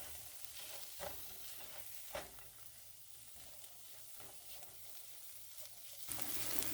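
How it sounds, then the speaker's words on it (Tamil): A spoon stirs bitter gourd poriyal in a pan just after lemon juice goes in, giving soft scraping strokes over a faint sizzle. A few sharper clinks come at irregular intervals. "லெமன் ஜூஸ் சேர்த்து கலந்துட்டு நம்ம ஸ்டவ் ஆஃப் பண்ணிடலாம்."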